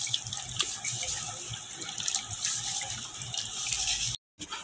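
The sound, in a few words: washing raw chicken under running tap water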